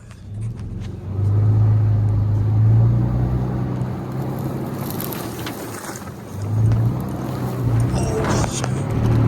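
Engine drone of a vehicle pushing through floodwater on a road near an MX track, a low rumbling hum that rises and falls with splashing and rushing water, loud and close.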